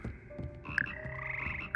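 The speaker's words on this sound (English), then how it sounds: "Here perch a slimy yet symbolic frogs." Frogs in Hogwarts Legacy give a chorus of soft overlapping croaks and chirps over a low ambient game hum, fairly quiet and steady, with no talking.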